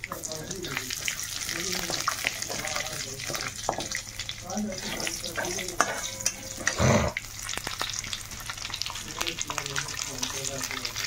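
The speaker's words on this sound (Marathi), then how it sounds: "ह्याच्यात परत थोडी जिरे टाकायची. जिरी मोहरी भाजली." Mustard and cumin seeds sizzle and crackle in hot oil in a pan, a steady close frying hiss with occasional stirring clinks while someone talks over it.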